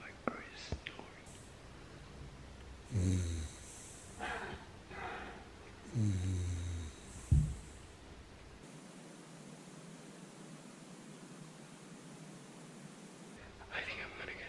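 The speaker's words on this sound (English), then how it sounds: "I think he's snoring." A sleeping person snores in a dim room, several slow breathy rasps spaced a couple of seconds apart, close but soft against a steady background hiss, with faint whispering around them.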